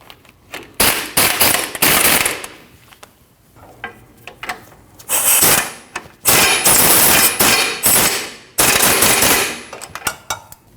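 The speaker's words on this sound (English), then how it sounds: "Tighten both of our bolts." Bolts on a Nissan NV2500 van's parking brake being run down with an impact wrench: loud, close bursts of rapid hammering rattle, about a dozen of varying length separated by short pauses.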